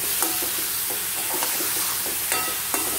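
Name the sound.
stirring mushroom butter roast in frying pan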